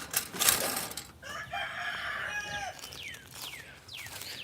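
Chickens kept in a greenhouse cluck and cackle at moderate distance, with rising and falling calls repeating over a background hiss and a sharp knock near the start.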